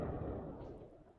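Muffled explosions rumble in a live broadcast feed from Tehran, a dense low-heavy roar that stays loud across the whole second or so and trails off slightly toward the end.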